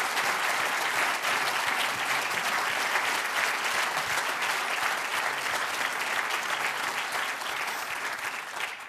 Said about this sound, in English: I think they deserve another round of applause for all their efforts